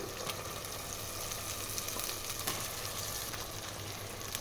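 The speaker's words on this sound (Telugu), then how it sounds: "మటన్ వేసి మొత్తాన్ని ఒకసారి కలిపేసేయాలి మటన్ని బాగా ఆయిల్లో ఉడికించాలి" Mutton and spice paste frying in oil in a pot, a dense, even crackling sizzle with faint stirring touches, close but low in level and continuous, with no speech.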